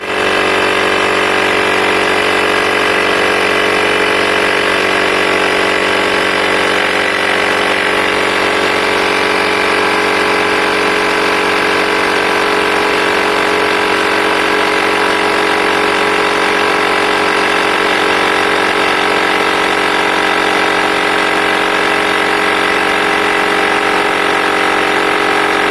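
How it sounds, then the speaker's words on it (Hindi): Continuous buzzing drone of a small portable digital tyre inflator compressor running steadily and close by for the whole stretch, with no talking. "कंप्रेसर का जो स्विच है वो ऑन करेंगे तो ये एयर फिल करने लगता है"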